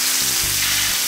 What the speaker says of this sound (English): So just go ahead and jam them in that nice hot oil.